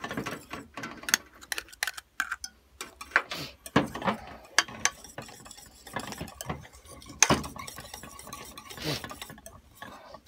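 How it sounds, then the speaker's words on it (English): Egg yolk from a large egg being stirred vigorously into stove top rice pudding in a pot, quick irregular spoon scrapes and clinks against the pan, close and uneven, with no speech. "I'm going to stir in this egg yolk."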